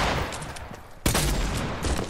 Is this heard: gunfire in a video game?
yes